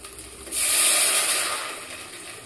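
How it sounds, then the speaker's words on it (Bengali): Batter poured into a hot pan on a gas stove, a sudden sizzling hiss that swells at once, then slowly fades, heard alone. "গ্যাসে এবার আমি ব্যাটারটি ঢেলে দেবো এর মধ্যে।"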